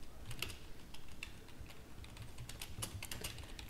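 Steady, rapid typing on a computer keyboard: a continuous run of sharp, close clicks with no voices.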